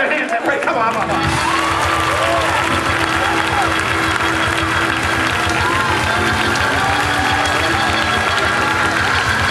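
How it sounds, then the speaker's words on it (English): A church congregation at a full gospel memorial service claps hands and cheers amid a loud, busy crowd, with organ or keyboard tones and a steady rhythmic beat running underneath throughout. "Clap your hands and pray."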